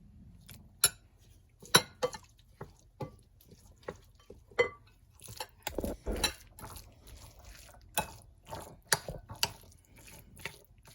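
A spoon clinks against a bowl while stuffed zucchini filling with beans and fresh peas is mixed, giving scattered sharp taps and scrapes that come close together, then faster near the end, against a quiet background.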